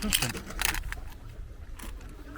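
Metallic jingling of small coins being shaken and handled, a few bright bursts close by with low background noise.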